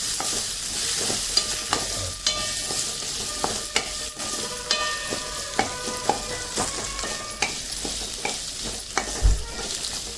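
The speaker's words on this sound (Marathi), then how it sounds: "कैरी चांगली परतून घ्यायची याच्यामध्ये आणि चांगली मऊ अशी शिजून घ्यायची" Raw mango pieces sautéing in tempering oil in a pan, a steady sizzle broken by repeated scraping and stirring clicks of a spoon, close by with no voices.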